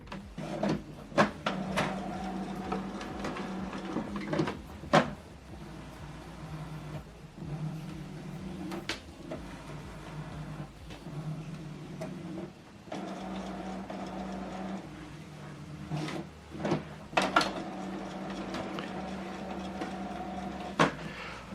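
An Epson WF-2910DWF printer runs its setup preparation, giving a steady mechanical whir and hum broken by repeated clicks and clunks of moving parts, fairly close and with no talking.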